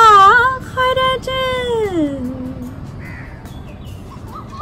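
A crow caws several times in close succession, loud and harsh, each call sliding downward in pitch, over a steady low background rumble that fades into faint later calls.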